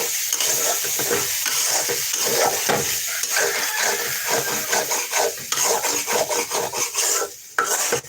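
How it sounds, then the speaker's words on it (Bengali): Spice masala for a rooster curry fries in a pan while a spoon scrapes and stirs it continuously, giving a loud, dense rasping sizzle with rhythmic strokes throughout. "এবার এগুলোকে কষিয়ে নেব"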